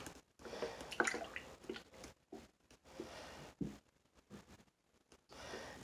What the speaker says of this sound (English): I'm going to add 3½ cups of plant-based milk in here.